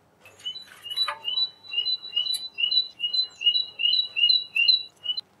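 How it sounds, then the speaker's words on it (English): A tit bird sings a clear, repeated two-note phrase of high, bright whistles in a steady rhythm, close and distinct with nothing else around it. "Tit."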